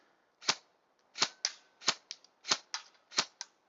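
Rifle shots ping a metal target during woodland target shooting, nine or so sharp, close cracks spaced fairly regularly over a few seconds, with no talking.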